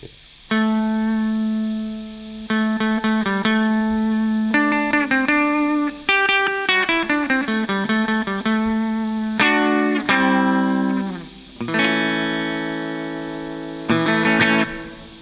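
Electric guitar played through a Two Notes Torpedo simulating a Marshall stack, with a crunchy tone, sustained chords and bending single notes ringing out in separate phrases, loud and close with no talking.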